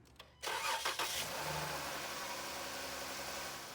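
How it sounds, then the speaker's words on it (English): A 2012 Dodge Journey engine cranks briefly, then catches and settles into a steady idle after a thermostat replacement, recorded close up. "start your engine up"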